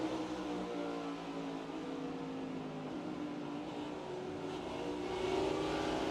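In-car engine of a NASCAR race car at North Wilkesboro, a loud steady drone that holds constant throughout and swells slightly near the end, with no talk.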